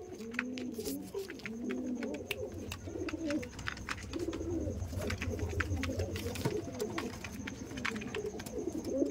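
Phulshira pigeons, a homing breed kept for sale at a fancier's house, coo in repeated low rolling phrases throughout, close by, with scattered wing flutters and clicks over steady background hum.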